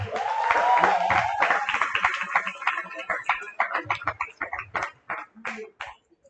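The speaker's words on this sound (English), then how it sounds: "So give her a round of applause." An audience at a guild general meeting claps, starting as a full, loud round of applause that thins into scattered individual claps and fades out over several seconds, with a brief voice in the middle.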